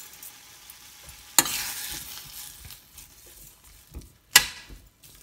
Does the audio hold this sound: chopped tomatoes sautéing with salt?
yes